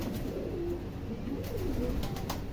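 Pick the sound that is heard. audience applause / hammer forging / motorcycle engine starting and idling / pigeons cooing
pigeons cooing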